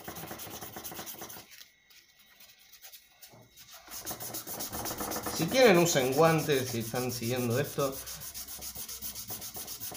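Hand sanding of a BC Rich Warlock bass body with sandpaper: steady, close rubbing strokes with a short pause, then a voice talks over continued scraping.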